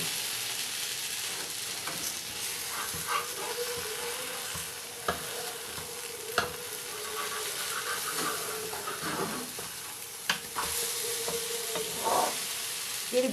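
A vegetable omelette frying on a low flame gives a steady soft sizzle, with scattered sharp clicks and scrapes as a spatula presses the edges and flips it. No one speaks.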